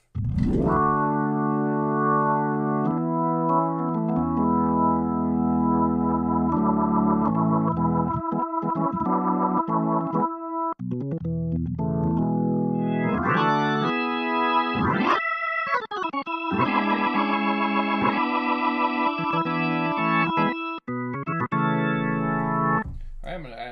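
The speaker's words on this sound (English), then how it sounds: "This is the internal Nord Leslie simulation with no overdrive." Sustained organ chords swirl through a Nord's internal Leslie rotary speaker simulation, the tone shimmering and warbling as the rotor speeds shift, clean with no overdrive, played alone.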